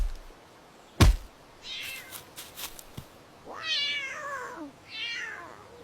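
A cat gives two drawn-out meows in close succession, near and clear, following a sharp thump and some faint knocks.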